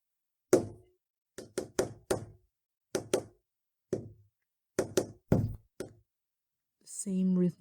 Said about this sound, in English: The same rhythmic knocking we heard erupted from the other side of the door.